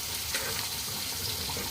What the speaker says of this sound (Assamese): লাহে লাহে তেলটো ফুটি আছে।